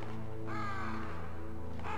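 Crows in the video game Metal Gear Solid caw repeatedly in harsh, drawn-out calls over a steady low game hum, heard without talk.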